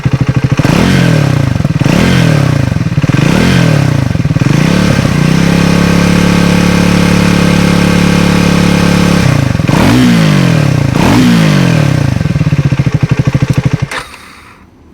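A 400cc motorcycle engine is blipped repeatedly, rising and falling revs between idle stretches, loud and close, then cuts off at the end.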